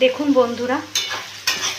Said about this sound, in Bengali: এবার এটাকে আমি ভালো করে একটু ভেজে নিচ্ছি